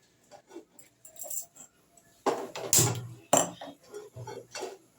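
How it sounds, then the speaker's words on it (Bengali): A cooking pan set down on a gas stove, a few sharp metallic clanks and knocks close by, among lighter taps and clinks in a quiet kitchen. "এবার আমি একটা প্যান বসিয়ে দিচ্ছি।"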